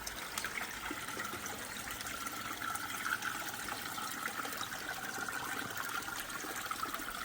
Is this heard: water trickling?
yes